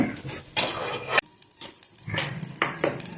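Butter sizzling in a pan while curry is made, with bursts of frying hiss broken by short pauses and light clinks of a utensil on the pan, close and moderately loud.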